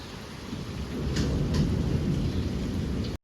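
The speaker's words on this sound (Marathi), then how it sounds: "तर बाहेर पडतोय पाऊस" Steady heavy rain pours outside while thunder rumbles low and close underneath, a continuous wash of rainfall with no voices.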